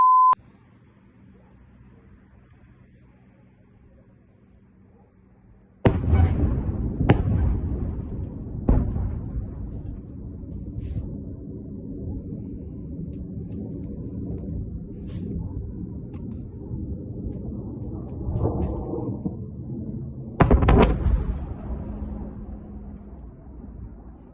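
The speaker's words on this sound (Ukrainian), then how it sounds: "у російському брянську пролунали вибухи" Several dull, distant explosions from a strike on a drone depot in Bryansk, Russia, go off at intervals, each followed by a low rumble, after a brief beep at the very start.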